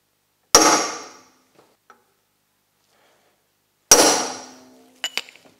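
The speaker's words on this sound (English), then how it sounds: "I'm going to use my handy punch." A hand punch struck with a hammer to mark a drilling spot on a Ford F350 light bar install: two sharp, ringing metallic strikes a few seconds apart, each decaying, followed by a couple of faint light taps.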